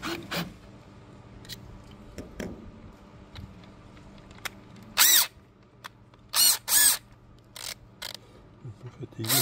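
A power drill with a small bit bores holes while assembling a winter shelter on a van, coming in several short loud bursts separated by quiet gaps, with speech and rustling between them.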